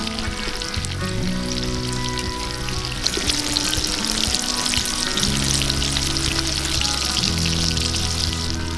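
Tempe fries in hot oil in a wok cooking outdoors over a fire, making a loud, dense, continuous crackle with bursts of spattering. A low tonal hum sits underneath, and nobody speaks.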